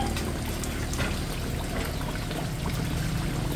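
Water pours and trickles steadily while cassava roots are washed outdoors during a heavy storm, a continuous splashing stream with no talk over it.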